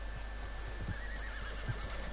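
A horse whinnies in the Red Dead Redemption 2 Online video game, a short wavering neigh in the middle of the clip, with faint hoof clops around it over a low steady hum.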